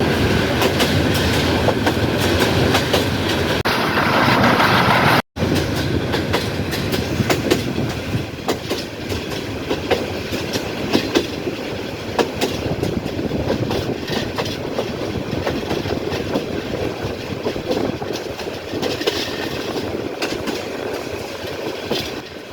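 A train runs on the line near Bhanugach station in Sylhet, Bangladesh, with a loud, steady rumble and a rhythmic clickety-clack of wheels over the rails. The noise stays close and continuous, with a brief break early on.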